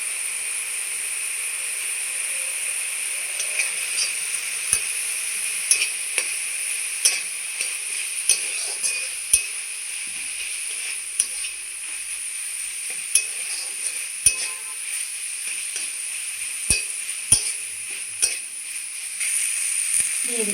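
Garlic, ginger and garam masala spice paste frying in a pan for chicken kachori filling, a steady soft sizzle with scattered light ticks and scrapes of stirring, with no talk.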